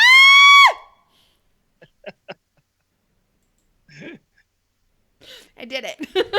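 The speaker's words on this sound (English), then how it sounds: "Let's hear the girly scream." A high, piercing girly scream opens loudly and cuts off sharply, followed by scattered clicks and a few short bursts of speech.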